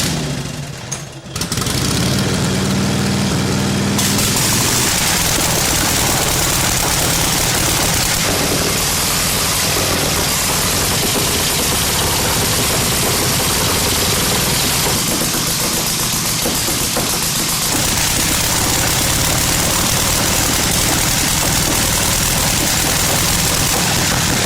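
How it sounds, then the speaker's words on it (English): A 1936 Harley-Davidson motorcycle engine cranks up after a brief start and then runs steadily for over twenty seconds, a loud, continuous idling rumble with a rough, knocking edge and no talk. "He's going to crank up the 36 Harley"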